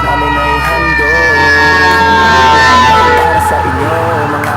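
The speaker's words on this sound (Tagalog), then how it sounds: "Habang kumakanta ang mga bata, kami umangandar ang sirena." A fire truck siren wails loudly and steadily at a parade, its rising and falling tone running through the whole stretch over a crowd and background voices.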